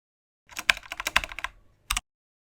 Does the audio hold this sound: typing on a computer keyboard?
yes